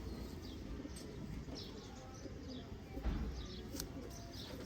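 Breeder pigeons of a Mian Sahib bloodline coo softly in a loft, faint low rolling calls with a few light chirps over a quiet background hum.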